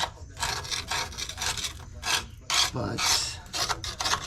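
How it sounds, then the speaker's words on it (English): A scraper rasps old gasket material off the rear differential cover of a Ram Power Wagon in a series of short, harsh, gritty strokes, close and loud, with a brief spoken word between strokes. "let's just scrape this down"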